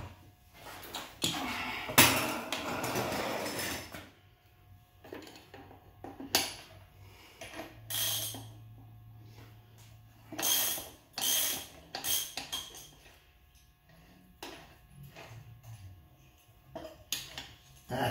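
The axle nut comes off a Yamaha V Star 1100 rear wheel, heard as quiet irregular ratcheting, metallic clicks and scraping, with a short humming buzz partway through and gaps of near silence between.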